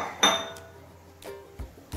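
A metal lid set on a kadai of boiling green peas on a gas stove gives one sharp clink followed by a few lighter metallic taps, close and brief.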